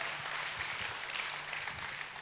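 A church congregation claps together in steady, fairly soft applause during worship, carrying evenly from start to finish without talk.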